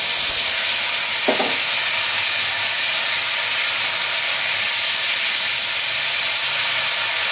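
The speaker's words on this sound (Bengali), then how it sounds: "এখানে পেঁয়াজ বাটা দেবো।" Onion paste frying in a pan for a prawn curry with ridge gourd and potato: a loud, continuous close hiss and sizzle with a brief stirring clatter early on, no voices.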